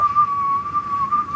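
A single person whistles a continuous wavering tone meant to imitate a UFO, the pitch sliding and warbling steadily for over a second over faint background noise.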